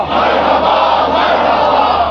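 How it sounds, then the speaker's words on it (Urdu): A large crowd chants a religious slogan, Aamad-e-Mustafa, at a devotional gathering, the voices merging into a loud, steady roar that stays dense and even throughout. "جوش سے، مستی سے، کیفیت سے، دیوانگی سے، عشق سے نعرے لگایا کرو کہ آمد مصطفیٰ"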